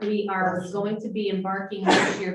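A single sharp sneeze bursts out near the end of a district subcommittee meeting, cutting across a man's steady speech.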